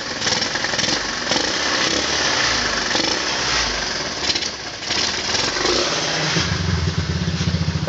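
A customized 2003 Honda Mega Pro motorcycle engine runs steadily at close range with a dense mechanical clatter, and its tone shifts lower and more throbbing near the end as the exhaust is covered.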